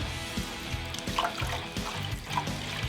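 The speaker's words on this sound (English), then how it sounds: "fill up this trough with water" Water pours and trickles into the trough of a Tormek T8 water-cooled sharpener, a soft splashing gurgle with light clicks, close and fairly quiet.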